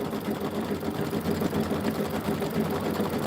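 Embroidery-style sewing machine stitching a quilt design, a dense, steady mechanical whir with fast rhythmic needle strokes, close and continuous throughout with no talking.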